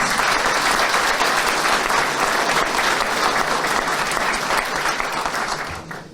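Sustained audience applause at a merchant gathering in Istanbul's Perpa Trade Center, dense and steady from the start, then thinning slightly in the final second.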